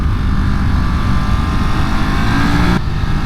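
A Ducati Monster SP 2023 motorcycle is ridden hard, its loud, close engine roar and wind rush steady throughout, with an abrupt pitch drop near the end as a quickshifter change goes through.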